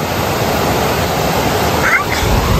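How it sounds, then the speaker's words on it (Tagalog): Loud, continuous rushing of a fast-flowing mountain river current with strong waves, a dense roar close by. "Malakas ang alon kasi galing sa sa bundok yan eh"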